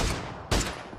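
Sharp blasts burst out in a video game as a car blows up, three abrupt loud cracks about half a second apart, each followed by a quick rumbling decay.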